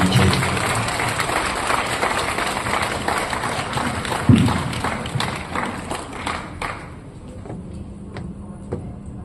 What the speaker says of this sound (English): Ladies and gentlemen, please help me by giving a round of applause to welcome ACP Lai.